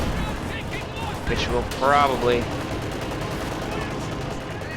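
Gunfire and shots from a World War II strategy video game, a dense steady crackle of small-arms fire running throughout, with a brief louder burst midway, under continuous commentary.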